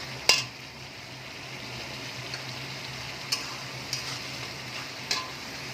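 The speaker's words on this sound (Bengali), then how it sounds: "আদা রসুনের পেস্টটা আমি দিয়ে দিলাম। ভালো করে একটুখানি কাঁচা গন্ধটা যতক্ষণ না যাবে একটু নাড়াচাড়া করব।" Ginger garlic paste frying in a pan while being stirred, a soft continuous sizzle with a few sharp clicks of a utensil against the pan, steady and close, no voices.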